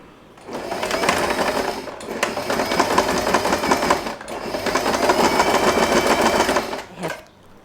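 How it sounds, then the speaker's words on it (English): Sewing machine running in two long bursts, top stitching a fabric label onto a scrunchie, with a steady rapid needle rattle close to the microphone and a short pause between runs. "you are going to do a top stitch right on the label"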